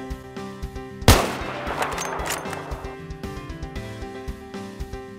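A single loud, sharp sniper rifle gunshot from a long-range headshot in Battlefield on the Caspian Border map, followed by a decaying echo over steady in-game background music, with no voices.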